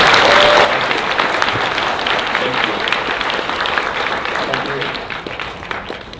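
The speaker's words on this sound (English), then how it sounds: "So make a big hand of applause for Matthew." A crowd at a political talk on conservative politics and US-Asia relations applauds a speaker's welcome, loud dense clapping with some cheering that starts strong and tapers slightly while a voice talks partly over it.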